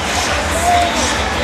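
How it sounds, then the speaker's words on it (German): Stuttgart volleyball fans in an indoor arena cheer after a winning point against Dresdner SC, a loud, dense roar of crowd noise for the whole short moment. "Und der Jubel Stuttgarts kennt keine Grenzen."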